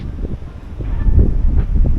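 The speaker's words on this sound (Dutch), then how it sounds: "het waait er altijd" Wind gusts buffet the microphone outdoors at Börkerheide, making a steady low rumble that swells and eases over two seconds. No other sounds stand out.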